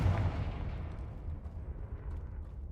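A Confringo fire spell in the Hogwarts Legacy video game goes off as one deep explosive boom at the start, followed by a low rumbling decay that trails off fairly quietly.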